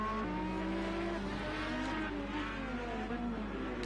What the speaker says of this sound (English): And Carmetlis there revving up his engine.